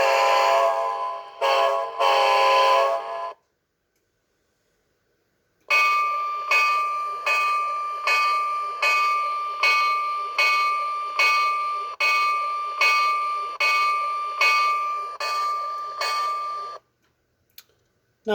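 Two short model train horn blasts followed by a pause, then a bell ringing steadily in a long, even series of clangs, clear and close, from an O gauge locomotive's True Blast sound system.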